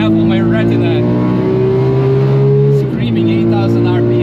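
A Porsche 997 GT3 RS engine screams at high revs on the Nürburgring, a loud sustained mechanical wail with steady harmonics that dips briefly as it shifts and then holds on.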